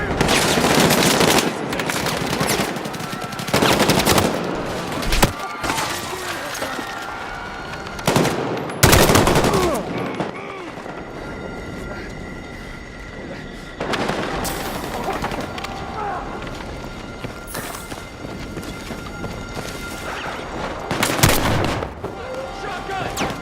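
Sustained automatic gunfire and bursts of shooting in the video game Battlefield 6, with loud repeated volleys and heavy impacts throughout, while shouted voices break in over the battle.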